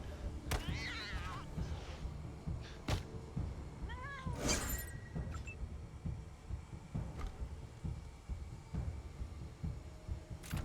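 Cats meow in the Wasteland 3 video game, a few short rising cries standing out over a low hum and scattered thumps of combat.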